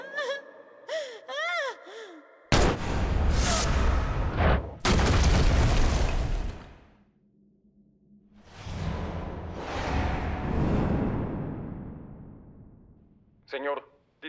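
Gunfire and booms from a S.W.A.T. action film come as a few loud, sudden blasts with long noisy tails, mixed with gasps, whooshes and voices.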